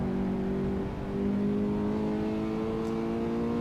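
Simulated car engine in Assetto Corsa holding a steady, loud drone with strong harmonics, a continuous sustained rev with a brief dip near the start, heard alone without talk.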